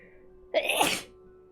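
A single sharp sneeze bursts out close and loud, rising quickly and fading within half a second, alone against a quiet room.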